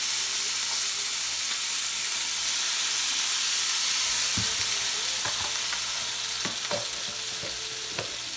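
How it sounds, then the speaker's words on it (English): Vegan meat substitute sizzles in a hot pan: a loud, steady frying hiss fills the clip, with scattered sharp pops and crackles and no voices. "Add this to the pan. This is the meat. Pan nice and hot."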